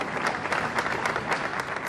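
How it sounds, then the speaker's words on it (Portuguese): Applause from UK cabinet members in Parliament, dense continuous clapping from a group at close range, steady for a couple of seconds with no talk over it. "Aplauso geral só no gabinete."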